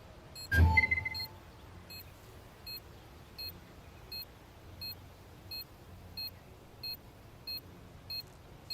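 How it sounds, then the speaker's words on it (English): Planted C4 bomb in Counter-Strike 2, a sharp thud followed by short electronic beeps repeating at a steady pace, roughly one each second, clear against a quiet background. "Bomb has been planted."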